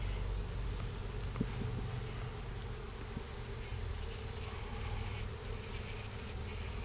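Honeybees hum in a thick, continuous low drone close by as a package is dumped into a new hive, steady throughout with occasional faint clicks and shuffling, no voices.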